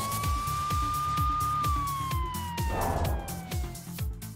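An ambulance siren wails as a single long tone that slowly falls in pitch, fairly loud, over a steady rhythmic thumping beat that runs throughout.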